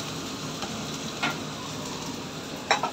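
Potatoes cut into thick pieces fry with spices in a pan, giving a steady low sizzle with a few brief clinks or stirring sounds, no talking.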